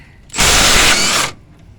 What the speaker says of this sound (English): I'm going to get my Milwaukee brushless impact with a 13mm socket and an impact extension.